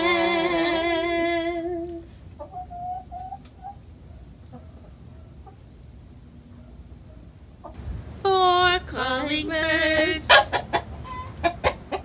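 Hens clucking and calling, with a loud drawn-out cackle at the start, soft scattered clucks through the middle, then a renewed burst of loud squawking calls toward the end.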